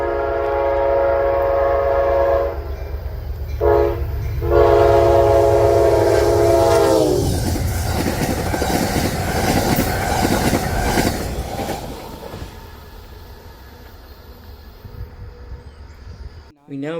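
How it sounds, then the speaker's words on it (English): An eastbound Amtrak passenger train, P-284 led by locomotive 130, races past with a loud horn blast up front, then a close roar of wheels and rail clatter that fades as the cars go by. "I saw Amtrak P-284 racing east with Amtrak 130 leading"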